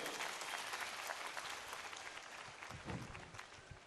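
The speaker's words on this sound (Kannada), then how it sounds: "ನಿಮ್ಮೆಲ್ಲರದ್ದು ಒಂದು ಜೋರ ಚಪ್ಪಾಳೆ ಇರಲಿ ಆ ಮಗುಗೆ." A crowd claps for a young child at a stage event, a dense continuous burst of applause with no pauses, recorded somewhat distantly.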